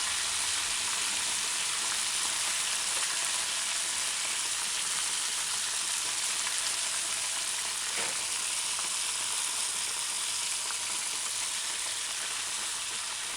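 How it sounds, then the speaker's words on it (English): Floured, sliced onions deep fry in hot oil, giving a steady, dense sizzle that hisses on without pause from start to finish. "I'm gonna fry the onions, the floured onions"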